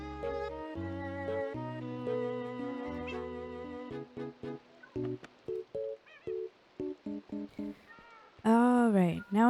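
A kitten meows repeatedly in a blocky survival video game, short pitched mews in quick succession over game music, ending in a louder drawn-out cry.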